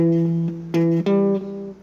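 Electric guitar picks out riff notes: three sustained, clear notes in a row, the second short, each ringing alone with no talk over them.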